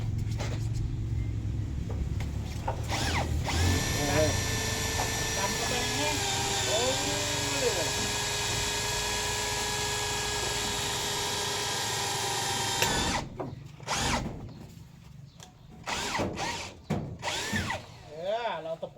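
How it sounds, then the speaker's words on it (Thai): A power drill bores into material while kitchen building work is underway, with a loud steady whine that holds for about thirteen seconds before stopping. Brief knocks and clattering follow, and people talk over the drilling. "เจาะเลยเจาะเข้าไปเลยทุกคน"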